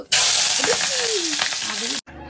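Onion drops into hot oil with garlic, cumin and chili, setting off a loud, dense sizzle that holds steady for about two seconds before cutting off abruptly; a faint tonal squeak rises over the frying.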